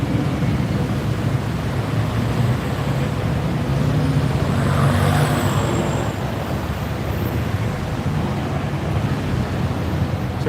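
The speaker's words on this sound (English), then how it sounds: "So let's see if I can get through traffic here." Continuous roar of street traffic in Bangkok, a broad wash of passing vehicles mixed with wind noise on the microphone, steady and fairly loud throughout with no clear voices.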